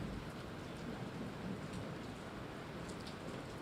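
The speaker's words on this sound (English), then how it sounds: "The rain continues to come down and come down hard here in Bernie." Hard, steady rain pours down during severe Texas flooding in Boerne, a dense, even wash of sound with no voices, heard throughout.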